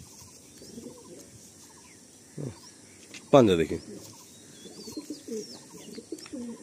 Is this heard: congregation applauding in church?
no